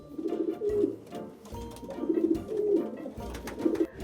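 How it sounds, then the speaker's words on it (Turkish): Pigeons coo in soft, throaty bursts, three rolling phrases spaced across the clip with faint background noise. "Güvercinler işte böyle ses çıkarır."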